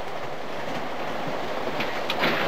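A train carriage rolls along rails with a steady, dense rumble and hiss that never lets up, close and even in level, heard alone with no talking.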